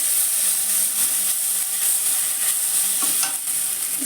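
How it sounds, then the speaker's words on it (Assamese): Garlic and onion frying in a pan while being stirred, a steady close sizzle with scraping stirring strokes throughout, no voices. "ৰহুন আৰু পিঁয়াজখিনি অকণমান ভাজি লওঁ।"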